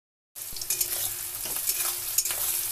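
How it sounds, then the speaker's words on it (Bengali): Onions frying in oil in a pan until reddish-brown, a loud close sizzle that starts abruptly after a short silence, with occasional stirring knocks and no talking. "পেঁয়াজটা লাল লাল করে ভাজছি"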